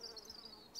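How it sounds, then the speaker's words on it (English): Bees buzzing outdoors among garden flowers in a radio drama scene, a faint steady drone with a brief louder buzz near the end, heard on its own. "bees"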